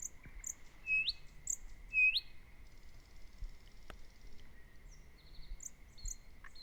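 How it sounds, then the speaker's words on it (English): Birds chirp in trees around a pond, giving short bright tweets and a couple of louder rising calls, heard at a moderate distance over a quiet outdoor background. "In this audio, you can hear ducks and frogs in the pond, as well as birds in the surrounding trees."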